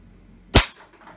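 A single sharp gunshot fired for a shot timer app test, one loud crack with a brief decay in an otherwise quiet setting.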